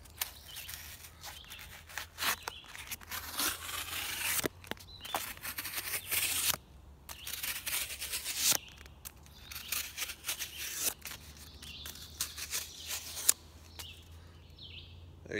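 Mako bushcraft knife slicing through cardboard in a long cut, giving a series of close, crisp scraping and tearing bursts with short pauses between strokes.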